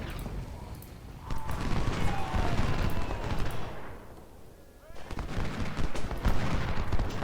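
Musket volley gunfire in the Civil War strategy game Ultimate General: Civil War, a dense crackling fusillade of many shots rolling continuously, briefly thinning before a fresh burst, loud and busy.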